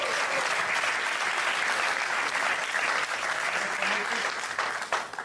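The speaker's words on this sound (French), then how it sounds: "Voilà, on peut l'applaudir." Loud, dense applause from a theatre audience at a film premiere, sustained clapping for about five seconds.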